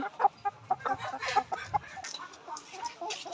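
Layer hens crammed five to a small delivery cage cluck repeatedly in short, close bursts, with several birds overlapping into a busy, restless chatter.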